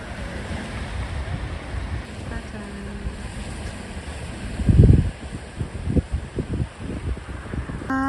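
Waves washing onto the shore at Haeundae Beach, Busan, in winter amid wind buffeting the microphone, with one louder surge midway followed by smaller splashes.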